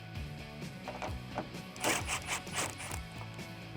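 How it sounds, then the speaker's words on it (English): A 10mm socket turns a small nut off the mounting stud of a rear ducktail spoiler on a 2008–2019 Dodge Challenger. The ratchet gives close, soft clicking and scraping sounds over a few seconds, with no talking. "We're gonna remove that little nut."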